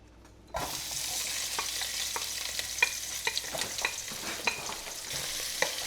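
Onion frying in oil in a pan, a dense steady sizzle that starts abruptly after a brief quiet moment, with scattered stirring clicks and pops close by, no talking.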